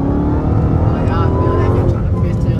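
A 2022 Dodge Challenger SRT Hellcat Redeye on bald slick tires revs loudly and steadily, its engine roar thick and sustained while the tires spin, with a voice talking over it.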